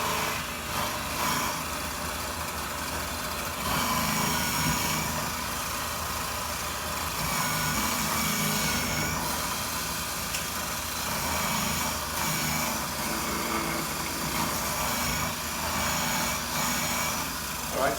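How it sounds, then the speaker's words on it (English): A KitchenAid food processor grates peeled, halved potatoes with a steady, loud motor whir that runs unbroken and alone from start to finish. "I'm going to take the potatoes, which I cut in half, peeled, and I'm going to grate these in my little trusty KitchenAid."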